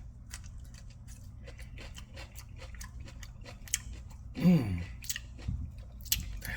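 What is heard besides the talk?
chewing a boneless pork rib taco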